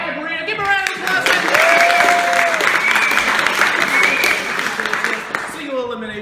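Loud audience applause at an improv comedy show, dense clapping that swells and holds for several seconds, with a voice speaking at the start and end and a few whoops inside it.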